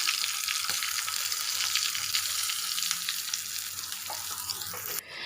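Cumin seeds, a single chili and a pinch of asafoetida crackle in hot tadka oil for a South Indian rice dish, a loud, steady, close sizzle that shifts abruptly right at the end.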